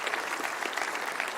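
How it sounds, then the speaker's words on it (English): A graduation audience at a California campus ceremony claps together in a steady, dense burst of applause, fairly close and even throughout the short stretch. "so we'll give her a round of applause"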